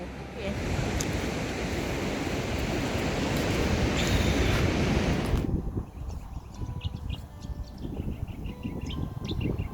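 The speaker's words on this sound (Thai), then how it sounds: "นี้อยู่ชายหาดค่ะ" Surf breaks on a beach on Fraser Island, a loud, dense wash of waves with wind buffeting the microphone that drops away sharply midway, leaving quieter distant surf with faint bird calls.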